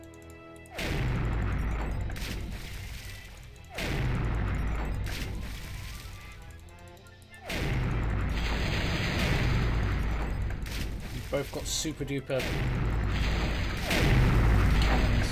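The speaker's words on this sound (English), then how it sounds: "Oh my god, those cannons were insane." Cannon fire in Monkey Island, heavy booming blasts in several loud bursts with crashing impacts between them, and a brief spoken line.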